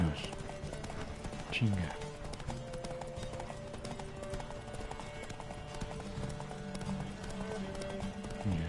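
Horse hooves clip-clop at a gallop during a race, a steady rapid beat running through the whole stretch with a rider's voice calling out over it and a brief whinny-like cry early on.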